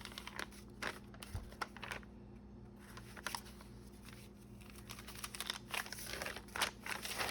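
Turmeric-dyed paper crinkles softly in the hands, a quiet irregular run of dry crackles and taps up close with brief pauses.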